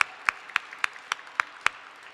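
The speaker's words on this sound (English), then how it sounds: "We should clap on that one." Audience at a City Hall International Women's Day celebration clapping, heard as sparse, evenly spaced sharp claps, about eight of them in a slow rhythm, fairly faint with quiet room noise between.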